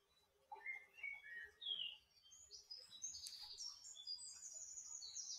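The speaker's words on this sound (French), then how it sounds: "J'ai remis les petits oiseaux du coup." Faint, clear birdsong: a series of high whistled chirps and trills rising and falling over a quiet background, with no talking.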